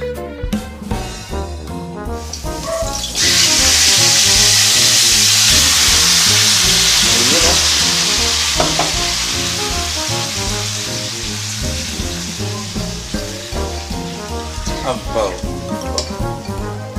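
Pork pieces dropped into hot oil for caldereta burst into loud, sustained sizzling that gradually settles, with clinks of utensils and stirring over the crackle.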